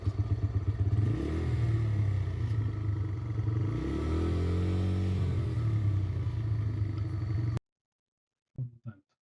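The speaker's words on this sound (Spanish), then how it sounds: "se genera una aceleración de la moto, pero no la fuerza suficiente para que ésta genere un movimiento" Motorcycle engine revving in place without driving off, a loud steady rumble with two rising-and-falling throttle sweeps before it cuts out abruptly, followed by a few faint clunks.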